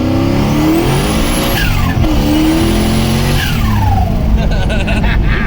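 A turbocharged LS-swapped Mazda Miata accelerates hard from inside the car, its engine pitch climbing through second gear, dipping at the shift into third, then rising again, loud and continuous with some tire noise.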